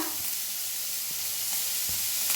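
Ginger, garlic, tomatoes and red chilies roast in a dry pan, giving a steady, soft sizzle with a few faint stirring scrapes, close and without talk.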